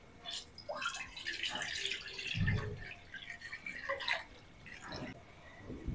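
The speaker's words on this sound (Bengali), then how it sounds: "কড়াই দিয়ে দিচ্ছি পানি" Water being poured into a kadai (wok) to boil rice for fried rice, giving a few seconds of moderate splashing and trickling with one heavier low gush partway through, with no talking.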